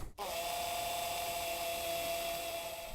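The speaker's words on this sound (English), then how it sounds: "M8x40 self-tapping screws using a 40 torque screwdriver." A 40-torque screwdriver runs as a steady, continuous whir with a thin tonal whine, driving lubricated M8x40 self-tapping screws into a pergola frame. It starts after a brief click and holds evenly throughout, close and unaccompanied by talk.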